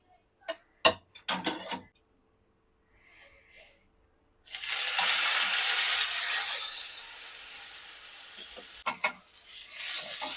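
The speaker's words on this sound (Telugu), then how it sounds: "ఈ గ్రిల్లో పెట్టి నేను ఆయిల్ వేసేసి దీన్ని ఇప్పుడు దీంట్లోనే ఫ్రై చేస్తున్నా" Chicken fries in oil on a grill, with a loud, steady sizzle that bursts in after a few scattered clicks and taps, then fades slightly as clattering returns.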